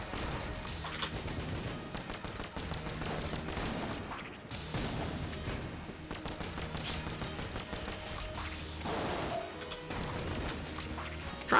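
Dense, rapid gunfire and crashing explosions from the Enter the Gungeon video game, continuous and chaotic with sharp bursts and heavy impacts throughout, fairly quiet overall.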